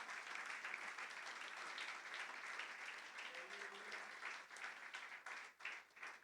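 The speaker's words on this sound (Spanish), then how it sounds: "Dele un fuerte aplauso al Señor." A church congregation breaks into sustained applause, a dense, continuous wash of many hands clapping at once, with voices mixed in and a slight thinning toward the end.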